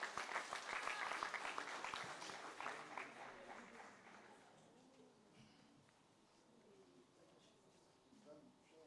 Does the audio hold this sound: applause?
yes